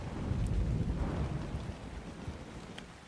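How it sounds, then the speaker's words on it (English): A thunderstorm rumbles in the video game ARK: Ragnarok, with steady heavy rain and low thunder rolling throughout, loud and continuous with no speech. "I really wish this storm would shut up. It's really annoying me."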